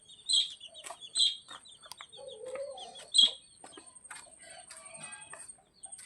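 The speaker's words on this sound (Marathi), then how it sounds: "हे बघा कोंबड्या." Village chickens at a farmhouse in the Konkan give several clear, close clucks and short squawks in an irregular pattern, with quieter fowl chatter between them and no one speaking.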